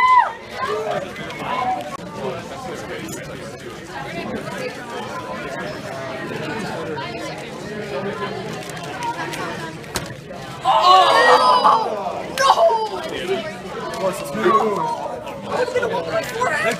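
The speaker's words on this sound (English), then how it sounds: "They're cheering for me." A crowd at a 2x2 Rubik's cube competition chatters, then breaks into a sudden burst of cheering and whooping about two-thirds of the way through, with murmuring voices continuing around it.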